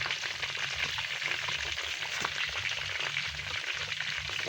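Crispy pork head (crispy ulo) sizzling steadily in hot oil for New Year, a dense, continuous crackle and spatter at close range with no talking.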